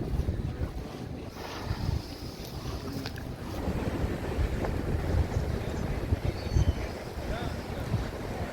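Rough sea on the Odesa coast after a night storm: wind buffets the microphone in strong gusts over the continuous surge of waves, with faint voices in the background.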